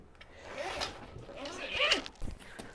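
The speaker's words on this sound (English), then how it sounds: "So let's zip this again." Zipper drawn shut along the packaging bag of an Ikea Renberget backrest, a close, scratchy run with a few quick pulls and short rasping bursts.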